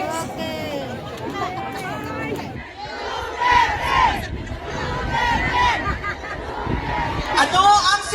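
Filipino overseas workers at a rally in the Netherlands for the vice president shout a rhythmic chant in unison, a loud crowd roar rising and falling with cheers and scattered voices mixed in.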